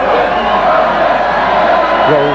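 A large crowd at the 1980 Hull KR rugby league homecoming cheers loudly and steadily, a dense roar with occasional shouts and whoops rising out of it.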